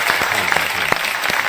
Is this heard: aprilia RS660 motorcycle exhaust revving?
no